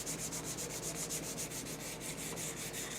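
Sandpaper rubs back and forth over a shellac finish on a wooden school desk in quick, even strokes, a steady close-up rasping that repeats rhythmically with no voices.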